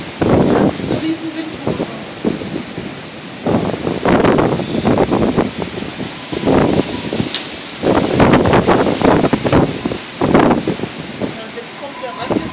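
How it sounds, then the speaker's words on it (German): Strong wind from a whirlwind in a severe storm over Magdeburg roars and buffets the microphone in gusts, carrying blowing sand, while people talk excitedly close by. "Das ist eine Windhose."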